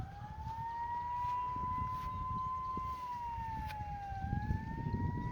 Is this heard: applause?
no